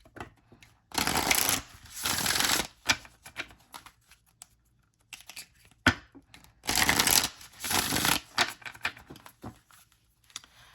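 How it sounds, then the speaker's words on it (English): Matte tarot cards being riffle-shuffled in several bursts, a soft papery whirring that starts and stops with quiet pauses in between, close up. "When we talk about shuffling, they are matte."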